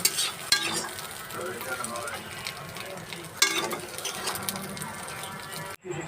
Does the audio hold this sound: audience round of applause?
no